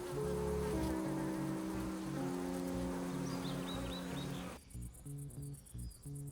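Bees buzzing around their hives, a steady, dense drone of many insects with a continuous hum, later thinning out into a lighter, more broken buzz.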